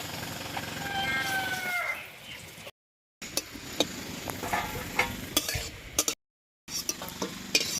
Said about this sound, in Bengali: তেলের মধ্যে 5টা-6টা শুকনো লঙ্কা ভেন্ডি ভর্তার জন্য ভেজে নেব